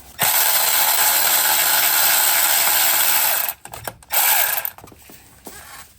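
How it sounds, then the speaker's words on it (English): A ratchet wrench loosens the 12mm starter motor bracket bolt on a Hyundai Tucson, giving a loud, rapid, continuous clicking for about three seconds, then a few shorter ratcheting bursts after a pause. "Now I'm going to remove that bracket."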